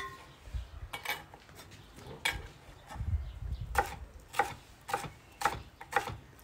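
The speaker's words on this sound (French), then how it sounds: "je vais faire des bâtonnets, tailler des petits bâtonnets" A knife cuts vegetables into small sticks on a board, giving a series of soft, irregular chopping taps, fairly quiet and close.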